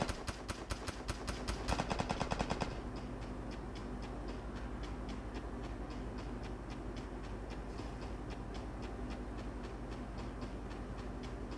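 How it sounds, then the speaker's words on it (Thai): Gunfire in a mobile shooter game played on a Redmi 9 phone: a rapid string of sharp, loud shots at first, then a steady fast rattle of quieter repeated bursts. "ยิงกันเหมือนจุดประทัดเลย"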